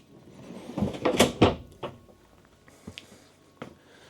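A storage compartment in a 2026 Renegade Valencia 39RB motorhome is handled, giving a cluster of close wooden knocks and slides followed by a few lighter clicks and taps.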